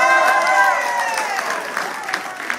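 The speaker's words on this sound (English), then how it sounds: "Let's have a big round of applause for Honi." Crowd at an outdoor political campaign rally in Otara, Auckland, applauds and cheers, with raised voices ringing over the clapping at first and sharper claps coming through as it continues.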